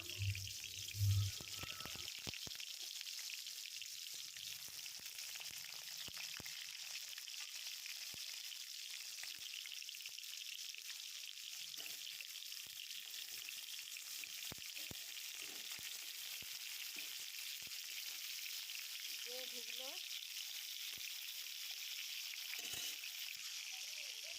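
Pointed gourd (potol) pieces frying in hot oil in a wok: a steady, faint, even sizzle with a few soft clicks and stirs, no voices.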